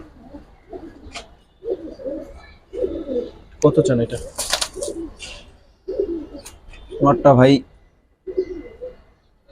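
Giribaz pigeons coo in short bursts at a pigeon sale, the calls close and mixed with frequent bargaining talk between men.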